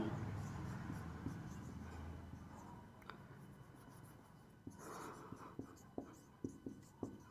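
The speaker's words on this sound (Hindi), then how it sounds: "तो यहाँ पर लिखेंगे हम" Chalk or marker strokes on a board during a classroom lesson, a series of faint, quick scratching taps that grow more regular toward the end, heard with no talking over them.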